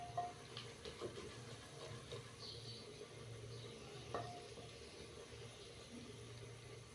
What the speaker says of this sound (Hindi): अदरक के पेस्ट को हमने 30 से 40 सेकंड के लिए हल्का सा फ्राई कर लिया है